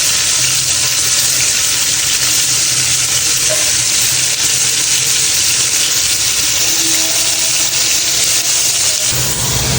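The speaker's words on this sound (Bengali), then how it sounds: "তো আমি হচ্ছে এখানে মাছগুলো ভেজে নিয়েছি" Fish coated in turmeric and salt fries in oil in a pan, a loud, continuous hissing sizzle up close with a watery, splashing texture and no talking.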